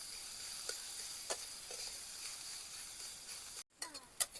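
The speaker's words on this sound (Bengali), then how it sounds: "আমি কিন্তু পেঁয়াজটা একটু ভেজে নিয়ে ভর্তাটা রেডি করছি" Onions for a coriander-leaf bhorta fry in a pan with a low, steady sizzle, interrupted by a few soft clicks of stirring and a brief pause near the end before the hiss returns.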